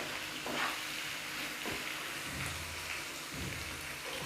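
Garlic-ginger paste sizzles steadily in a hot pan for a dhaba-style dal tadka, a dense broadband hiss with a few louder spatters and stirring scrapes, close and continuous with no talking.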